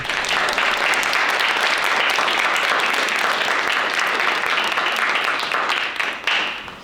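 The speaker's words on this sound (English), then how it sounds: "I would like everyone to give a round of applause to all the young people that was involved in this." An audience applauds young performers at a youth arts showcase, a thick, steady wash of clapping from a large crowd that holds at full strength for several seconds before tapering briefly near the end.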